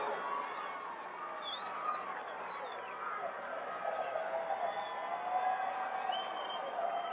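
A packed high school basketball crowd at a 1979 West Virginia AAA state championship game, Princeton versus Logan, roars in a steady, sustained wall of cheering and yelling heard from a distance, with no pause throughout.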